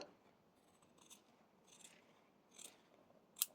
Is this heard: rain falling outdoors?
no